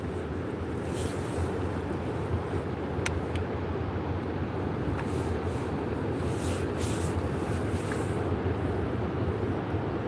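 A lifeboat engine out at sea off a cliff and promenade, heard as a steady, distant low rumble blended with constant wind buffeting the microphone, unbroken for the whole stretch with no voices.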